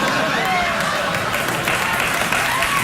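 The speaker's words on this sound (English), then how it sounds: "I'm glad somebody's clapping." A late-night talk show studio audience claps and cheers in a steady burst, with speech mixed in.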